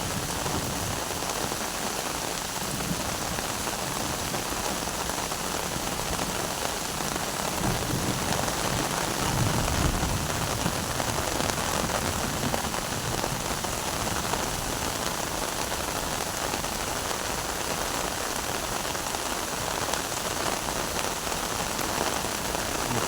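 Rain falls steadily on a natural farm in a dense, even hiss that lasts the whole time, with no voices.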